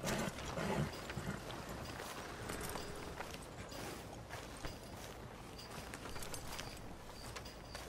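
Horse hooves clip-clopping at a steady walking pace in the Red Dead Redemption II video game, a continuous rhythmic clatter over a busy background of ambient noise, with no speech.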